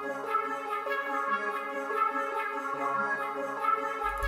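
Electra X synth preset carrying a copied melody in an FL Studio beat, a bright sustained tone with steady stacked harmonics, played alone at moderate level with a low note entering near the end.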